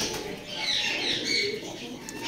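Soft, low cooing from heavy-sized pigeons in a breeding setup, continuous and fairly faint over light background noise, with no speech.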